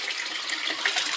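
Water splashes continuously in a hydroponics system, a steady bright trickling and spattering close by with no pauses.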